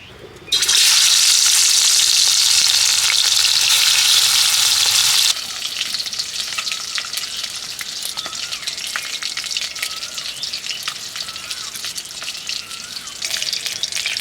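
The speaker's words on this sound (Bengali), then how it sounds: "কড়াই গরম হয়ে গেছে এবার মাছ ভাজার জন্য দিয়ে দিচ্ছি সর্ষের তেল" Rohu fish fries in hot mustard oil in a wok in a village kitchen. A loud, dense hiss bursts out at first, then settles into a steadier crackling sizzle.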